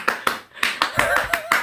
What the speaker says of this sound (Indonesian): Salam perpisahannya tepuk pemuda